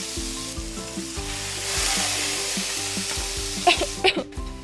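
Penne pasta sizzles and crackles steadily in a hot pan with squid, with a broad hiss of frying and a couple of louder pops and clinks near the end.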